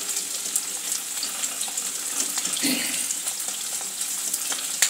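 Onions fry in a pan, a steady close sizzle and crackle with a watery hiss that rises slightly midway, heard alone without talk.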